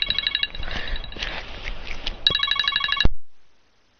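Close by, a phone rings with an electronic ringtone built from fast repeating pulses. The ring breaks off briefly, resumes, then cuts out abruptly after a sharp knock and gives way to silence. Nobody speaks.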